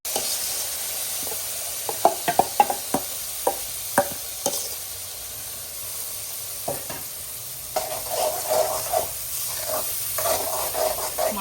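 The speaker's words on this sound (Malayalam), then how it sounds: "കടുകിട്ട് വറ്റൽമുളക് എല്ലാം ഇട്ട് ഇങ്ങനെ താളിച്ചെടുക്കുന്നുണ്ട്" Mustard seeds and dried red chillies crackle as they temper in hot oil for ginger pickle. Scattered sharp pops and spoon clinks ride over a soft sizzle, and the frying thickens toward the end.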